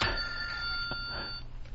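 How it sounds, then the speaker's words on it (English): A telephone rings in a radio studio, a bright continuous electronic trill that is loud and close and runs nearly unbroken before cutting off. "Ooh, the phone's ringing."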